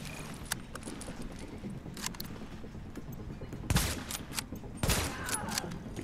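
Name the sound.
gunfire in video game The Division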